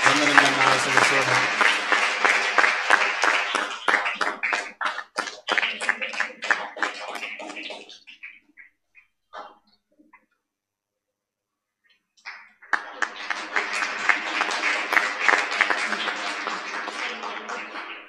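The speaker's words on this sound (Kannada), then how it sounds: "ಎಲ್ಲ ಗಾನವೃಂದದವರಿಗೆ ಇನ್ನೂ ಜೋರಾಗಿ ಚಪ್ಪಾಳೆಯನ್ನು ತಟ್ಟುತ್ತಾ ವಂದನೆಯನ್ನ ಸಲ್ಲಿಸೋಣ" A congregation at a First Holy Communion Mass in a church applauds the choir, dense clapping that fades into a quiet pause before a second burst of applause swells up.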